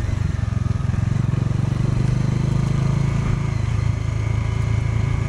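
A motorcycle rides along a road near Chamera dam and lake in Chamba, its engine droning steadily and loudly up close, with wind rushing across it and no talking.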